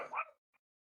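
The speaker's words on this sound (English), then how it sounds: "Sorry for the barking in the background." A dog gives one short bark in the background, with a faint yip just after, brief and fairly quiet.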